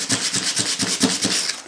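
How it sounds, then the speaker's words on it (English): Rhythmic hand sanding, about eight quick back-and-forth rubbing strokes, close and fairly loud, with no voices. "I don't like sanding shit."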